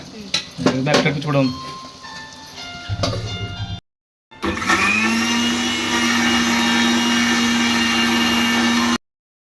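Clinks and a few faint voices, then after a short pause a mixer grinder grinding masala whirs loudly and steadily for several seconds before cutting off abruptly.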